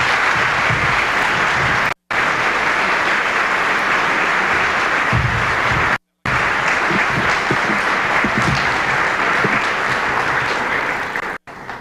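Sustained audience applause welcoming author Sebastian Junger at an evening talk, a dense, loud wash of clapping from a large crowd that carries on for several seconds with only brief breaks.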